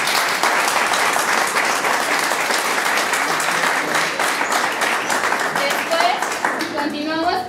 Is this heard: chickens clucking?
no